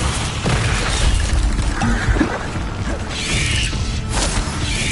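Casting the Descendo spell in the Hogwarts game brings a dense jumble of creaking, thudding booms and crashing impacts that hit in quick bursts at a loud, close level.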